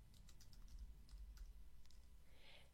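Fingers tap out a short burst of keystrokes on a computer keyboard, quick irregular clicks close by and fairly quiet, then a brief pause with a softer click near the end.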